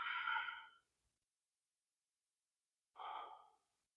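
Two slow, audible breaths during a yoga strength session, soft and close: a long airy exhale, a second of silence, then another breath drawn through the nose and mouth.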